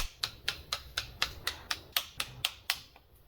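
A torque wrench snaps out about a dozen sharp, evenly spaced clicks while screws on a car are tightened to spec, quiet and close with no voices.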